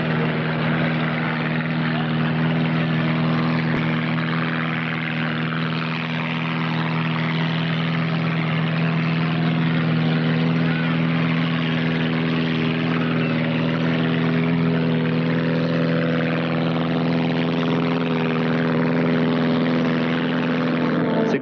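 A vintage propeller airplane flies steadily overhead, its engine a continuous, loud droning hum with strong steady tones throughout, carrying alone without pauses.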